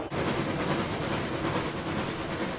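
A runaway train in an animated children's cartoon sounds as a steady, loud, dense rumbling roar with a faint clickety-clack that runs unbroken throughout, with no voices.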